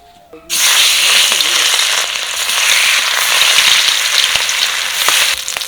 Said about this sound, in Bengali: কড়াই গরম হয়েছে তেল দিয়ে দেব